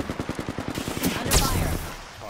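Charge rifle and other gunfire in an Apex Legends match, a rapid regular burst of shots followed by a louder beam blast that fades, up close and loud.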